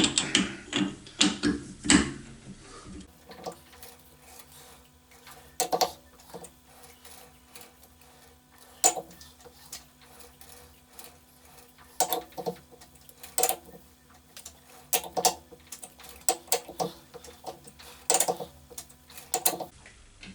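Milling machine taking cuts on a rotary table adaptor plate in a workshop, a quiet mechanical hum under repeated irregular clicking and chattering bursts, with a busier noisy stretch at the very start.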